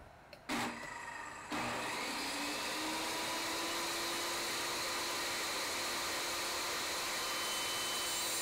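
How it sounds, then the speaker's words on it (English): Table saw ripping wood: the motor starts with a short burst, cuts out, then spins back up into a steady loud whining drone with a hum that rises slightly in pitch and holds to the end. "Slowly run the wood across the blade, removing some of the wood and making sure that it is firmly pressed against the rip guide."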